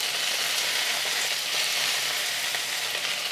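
Mint and coriander leaves sauté in a pan for a green chutney, giving a steady, even sizzle that holds at one level throughout with no voices.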